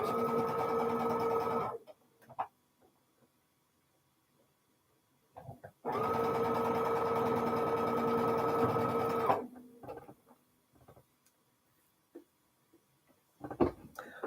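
A sewing machine stitching quilt star blocks runs in two steady bursts, a few seconds each, separated by quiet pauses with faint handling noises.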